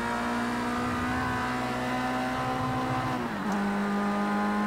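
A Formula Rookie race car engine in Project CARS 2 holds a steady, loud, buzzing drone under load at Donington in the rain, then drops in pitch with a gear change and keeps pulling.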